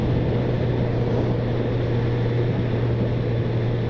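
A stock inline-four motorcycle engine idling or running steadily, a continuous even drone with a strong low hum, loud and unchanging for the few seconds, with no talking.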